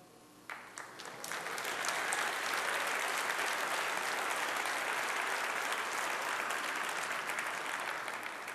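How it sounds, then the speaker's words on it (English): An audience breaks into applause after a brief pause, swelling within a second into steady, sustained clapping from a large crowd that continues throughout. "Some of you might be clapping for a change in job description."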